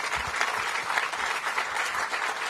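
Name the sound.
audience applause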